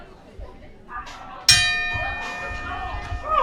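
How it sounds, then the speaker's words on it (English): A bell signals the start of a match with one sharp metallic strike that rings on with a long sustained tone, while a background voice and crowd noise continue underneath. "And bell's gone. We are underway."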